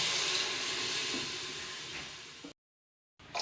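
Water poured into a hot pot of washed potatoes being sautéed for masala khichdi sizzles and hisses loudly and steadily for a couple of seconds, then cuts to brief silence before the hiss returns.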